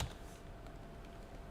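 Quick keystrokes on a computer keyboard as a command is typed, a faint run of soft, irregular clicks close up with no talking.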